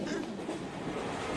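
A train running on rails gives a steady, moderately loud rumble with a faint rhythmic clatter underneath and no pauses.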